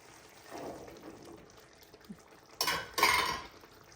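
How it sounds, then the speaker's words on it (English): Chickpeas tumble into a pan of cooking spinach. Two sharp, bright clattering bursts follow each other close together, framed by quieter kitchen scrapes and rustling. "So now I am going to add the chana."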